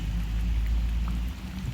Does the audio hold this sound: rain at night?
yes